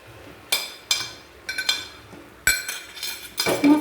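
Fried chicken pakoras go into a wok of chilli sauce: metal utensils clink sharply against the pan in several distinct hits, loud and close, with a soft bubbling in between.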